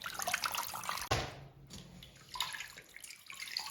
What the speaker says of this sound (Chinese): 多清洗2遍，淘出血水